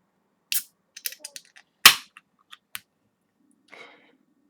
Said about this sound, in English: let's go and crack this one open